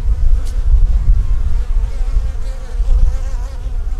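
Honey bees massed at an open hive, keeping it warm while pollen and honey are added, give a dense, steady, close buzzing hum that fills the whole stretch with no talk.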